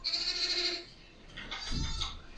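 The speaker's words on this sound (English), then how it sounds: "Oh, what a cute fucking goat!" A goat bleats in a drawn-out, wavering call, followed by a shorter, rougher burst of noise, heard up close with no talking.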